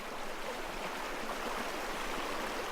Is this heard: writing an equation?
no